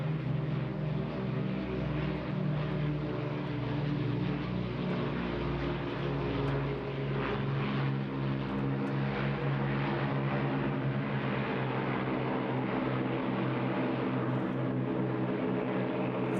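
An Avro Lancaster bomber, a four-engine propeller aircraft, passes at an air festival with its undercarriage down, a loud, steady multi-engine drone with rich low harmonics filling the whole stretch, no talk over it.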